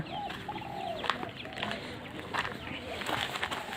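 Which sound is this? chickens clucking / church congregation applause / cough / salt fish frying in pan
chickens clucking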